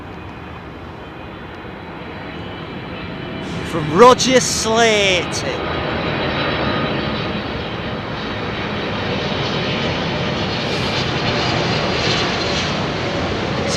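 Etihad A380 jet airliner at London Heathrow Airport: a steady, rumbling engine roar persists throughout while people talk over it, with a brief louder burst of sound partway through.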